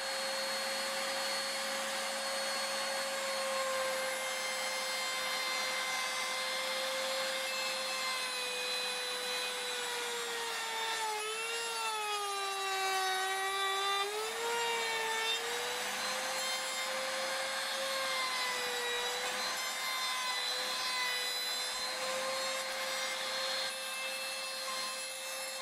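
A power saw hums steadily while its blade scores into wood for an alcove cupboard, a sustained whine that dips briefly mid-cut as the blade loads, loud and continuous with no talk.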